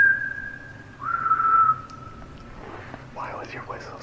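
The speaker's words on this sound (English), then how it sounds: "Why was your whistle so ass compared to mine?" A person whistles a sustained, steady tone for under two seconds, loud and clear at first, then fades as faint voices take over.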